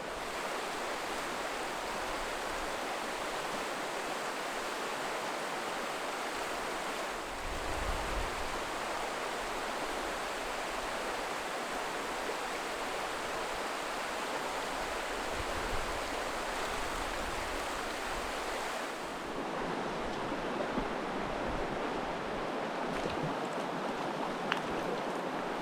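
A creek in remote Idaho rushes steadily, a broad, even hiss of flowing water that holds at a constant level throughout, with a brief low thump near the middle and no voices.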